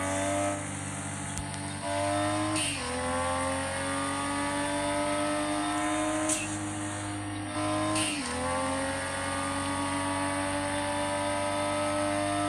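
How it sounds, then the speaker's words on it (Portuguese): A Nissan Skyline R34 in a racing video game roars through repeated gear changes, the engine tone climbing, dropping at each shift and climbing again, loud and close. "A arrancada desse carro é meio fraquinha."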